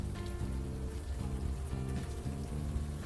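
Steady rain falls in the video game Unavowed, a continuous even patter that runs the whole time beneath a looping musical backing, with no voices.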